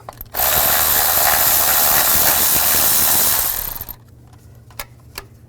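Ratchet turning a 10mm socket to remove a bolt on a 2005-2015 Nissan Xterra during valve cover work, a loud, close, continuous clicking whir lasting about three and a half seconds, then a few faint clicks.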